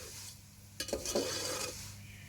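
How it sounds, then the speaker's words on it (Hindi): Handmade vermicelli (saviyan) is roasted in a pan on a low flame, with a faint sizzle behind a few short scrapes and clinks as a spoon stirs it, close by and with no talking. "ये देखिए, मैं भूनती जा रही हूँ"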